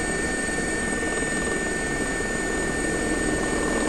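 A helicopter at Heathrow airport in the X-Plane 11 flight simulator, flown as a UK air ambulance, gives off a continuous loud rotor and turbine drone with a steady high whine, close and unbroken throughout.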